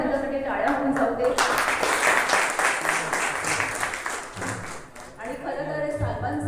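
Audience applause at a public event welcoming a BJP legislator, a sustained burst of clapping heard alongside a voice speaking.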